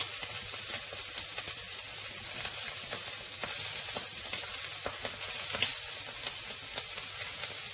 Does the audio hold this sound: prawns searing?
yes